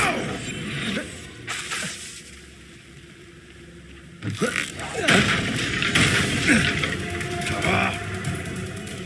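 Confringo and Incendio spell blasts in Hogwarts Legacy combat, a few sharp thumps and whooshes early, then a louder cluster of fiery bursts and crackles, with a voice shouting over parts of it.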